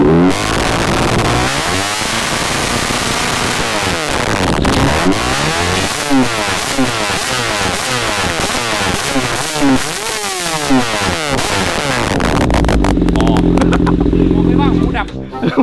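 A motorcycle engine revs repeatedly, climbing to about 8,000 rpm in rising and falling sweeps, loud and close, with a lower steady idle toward the end.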